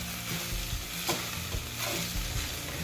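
Poha with kasuri methi is stirred in a pan, a dense close scraping and rustling over a faint sizzle, with small thuds as the spoon moves, no one talking.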